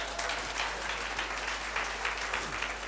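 A church congregation claps steadily, a dense wash of applause with no pauses that stays at a moderate, even level throughout.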